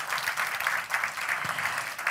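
Audience applause at a film festival opening ceremony, a steady patter of many hands clapping in a hall, fairly dense and even throughout.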